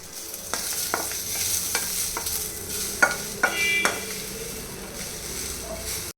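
Coriander leaves frying in a pan with onion and ginger, giving a steady soft sizzle broken by a few clicks and scrapes of stirring, close and moderately loud with no voices.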